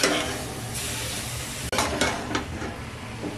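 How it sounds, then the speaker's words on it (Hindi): Carrots for gajar halwa frying in a pan over a medium flame, a steady close sizzle with a few sharper scrapes and clinks of stirring. "दो तीन मिनट तक इसी तरह भून लें, मीडियम फ्लेम पे, हाई फ्लेम ना करें।"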